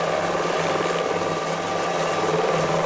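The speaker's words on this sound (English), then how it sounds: "At last, helicopter cover is back." Steady, loud helicopter rotor and engine noise from a police air unit flying over London streets, a continuous thudding drone with no voices over it.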